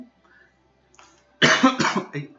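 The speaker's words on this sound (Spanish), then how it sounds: "Disculpen por la tos." A single sharp cough, close and fairly loud, comes after a brief quiet stretch with faint background noise.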